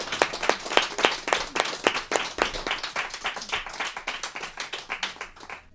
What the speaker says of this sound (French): alors sinon on va conclure sur un applaudissement